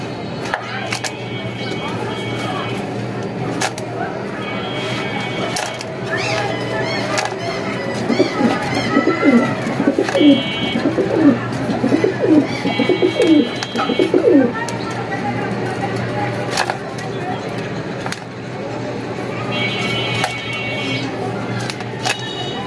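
Pigeons coo softly in a loft where a hen bird is feeding and a male sits on eggs. The low, throaty coos come in clusters over a steady background, with occasional pecking taps and people talking nearby.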